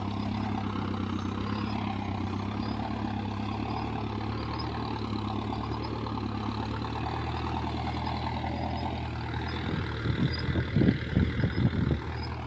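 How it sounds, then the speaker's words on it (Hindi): A tractor engine labors steadily while pulling a cultivator through tight, wet field soil, a continuous low droning rumble with rough, uneven knocking bursts near the end; no voices. "ट्रैक्टर की आरपीएम बहुत ज़्यादा तोड़ रहा है।"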